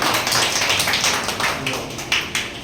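Many hands clap together at a district social worker appointment ceremony in Malda, a loud, sustained crowd patter with a few sharper peaks near the end.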